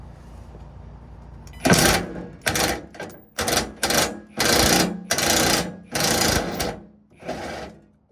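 An impact wrench hammers in loud, close bursts of rattling blows, about seven pulses with short pauses, loosening a rusty skid plate screw on a 1984 Ford Bronco II.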